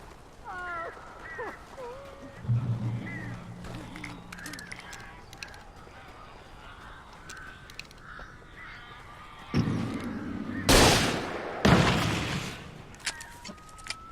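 Crows cawing in the video game Alan Wake, a few harsh calls early on, then loud bursts of flapping and commotion near the end, with a low rumble between.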